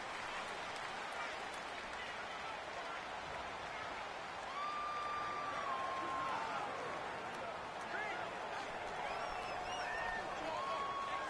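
A simulated stadium crowd in Madden NFL 19 roars at a home game, a continuous broad wash of cheering noise that holds steady throughout, with faint tonal sounds on top.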